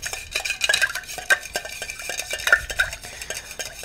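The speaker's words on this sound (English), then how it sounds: "So we're going to just stir to combine here." A bar spoon stirs a Knickerbocker gin cocktail over ice in a mixing glass, producing a rapid run of sharp, close clinks and rattles.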